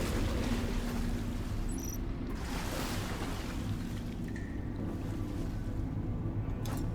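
Ambient water rushes and laps steadily in the video game Deliver Us Mars, a low, continuous wash with a soft wind-like hiss and a few faint tonal blips, no talking.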